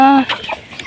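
Domestic chickens, including a mother hen with hatching eggs, clucking nearby on a backyard farm at feeding time, one drawn-out call followed by short scattered clucks, loud and close.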